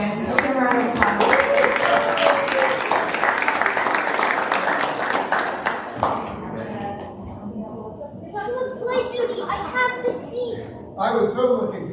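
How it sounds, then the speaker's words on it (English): A cabaret audience applauds for about six seconds, a dense clapping patter that then fades into a mix of voices and scattered sounds, with speech heard over it. "Let's give a round of applause."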